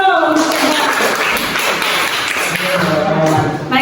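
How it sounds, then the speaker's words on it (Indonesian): Applause from a classroom of students after a presentation, a dense, loud patter of many hands clapping together that carries steadily for several seconds with voices mixed in. "Tepuk tangan dulu."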